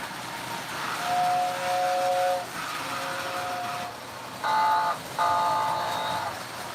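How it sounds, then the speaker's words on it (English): A model train's steam whistle, said to have a bad bearing plate, sounds in several thin, wavering toots: two longer blasts, then a shorter one, and a final pair of brighter, louder bursts over a steady running rumble. "the whistle isn't too good in that one. I don't know why. I guess it's got a bad bearing plate."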